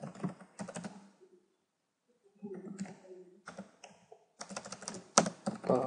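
Computer keyboard typing while entering an HTML paragraph, quick clusters of key clicks in bursts separated by pauses, fairly close and moderately loud, with a voice talking in between.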